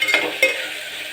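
Semolina dry-roasting in a pan for upma gives two quick scraping stirs over a soft, steady rustle, close and fairly loud with no voices.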